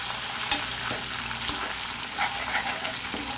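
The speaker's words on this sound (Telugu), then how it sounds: "ఒకసారి కరివేపాకు కూడా మంచిగా ఫ్రై అయ్యేలాగా ఫ్రై చేసుకోవాలి" Curry leaves sizzling in hot oil in a pan for a brinjal fry tempering, a steady close hiss with occasional sharp ticks and scrapes as the mixture is stirred, no voices.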